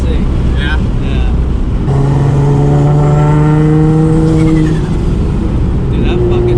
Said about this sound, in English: Dude, that fucking turbo flutter.